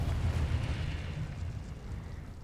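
A Confringo blast spell explodes in Hogwarts Legacy, a faint, muffled boom with a rumbling low tail that lingers briefly before settling.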